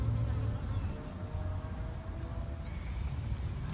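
Bees buzz around lavender in a garden bed, a close, continuous droning hum with wavering pitch that runs throughout under faint outdoor background noise.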